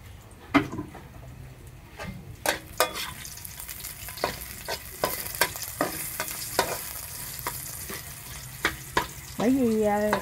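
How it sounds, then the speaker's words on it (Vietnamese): Tofu frying until crispy in a pan for a vegetarian dish, with a steady sizzle and repeated sharp clatters of stirring and scraping in the pan. The oil crackles louder near the end. "Còn đây là đậu hũ. Mình sẽ chiên giòn lên."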